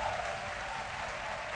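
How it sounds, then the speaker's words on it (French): A studio audience at a midday television talk show on Ivorian channel RTI 1 applauds in a steady, full burst of clapping lasting the whole short stretch, with no speech over it. "Est-ce que vous pouvez vous applaudir encore?"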